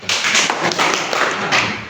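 Classroom applause from a group of students during an English lesson on asking and giving directions, a steady dense patter of clapping lasting about two seconds, loud and close.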